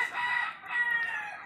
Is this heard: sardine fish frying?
no